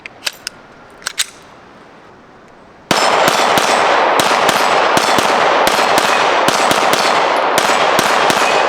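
Rapid pistol fire from a Ruger RXM running a Glock magazine with a Tyrant CNC extension, a steady string of sharp, loud shots after a few faint clicks and clanks of handling at the start.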